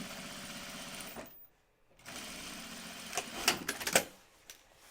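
A sewing machine stitching a fabric bag runs in a steady mechanical whir, stops briefly, then starts again with a few sharper clicks and thumps as it works.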